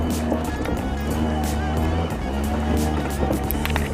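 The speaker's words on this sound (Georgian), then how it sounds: "ძალიან ცუდი გზებია ძალიან დიდი ქვებია და ამის გამო სკუტერი დახტუნავს თან აღმართია" A scooter jolts and rattles over big stones while climbing a rough, steep uphill road, a steady rumbling clatter with scattered knocks throughout, close and continuous.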